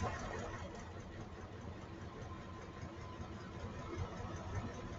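A car engine idles in reverse with one fuel injector unplugged, a steady low rumble with slight unevenness, close and continuous with no talk.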